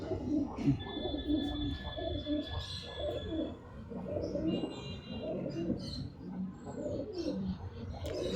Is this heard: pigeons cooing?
yes